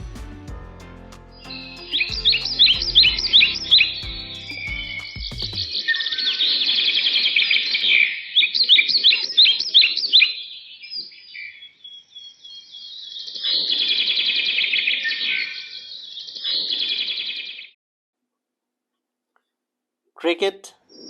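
Birds chirp in rapid, high-pitched trills and twitters, repeating in bursts with brief pauses, fairly close and clear, then falling silent near the end.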